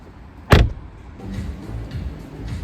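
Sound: car being closed and locked

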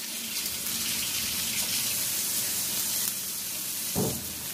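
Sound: rinsing mushrooms under running tap water

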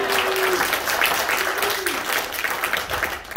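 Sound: church congregation applause

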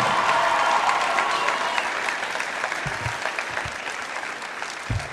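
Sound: audience applause at a school rally

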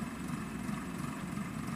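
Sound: tractor engine

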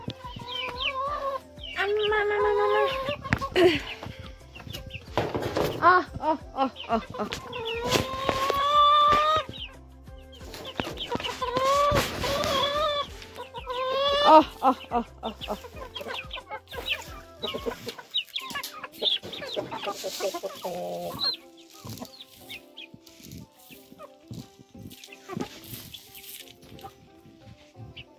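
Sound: chickens clucking at feeding time

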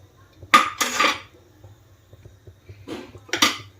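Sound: closing a lid on a pot

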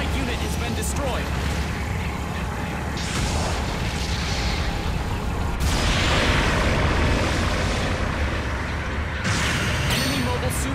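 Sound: explosion of a destroyed mobile suit, from a video game

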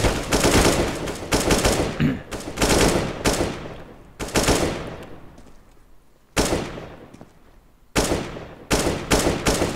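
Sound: gunfire in video game CS:GO

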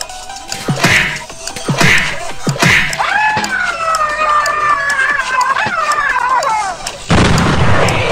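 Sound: bomb explosion in video game

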